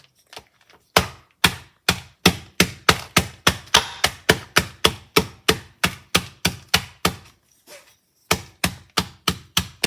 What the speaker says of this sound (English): put them in a plastic bag, and then smash them until not necessarily powdered, but really small chunks